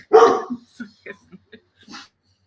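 A dog gives one loud, close bark, followed by a few softer yips and whimpers, spaced apart against a silent background.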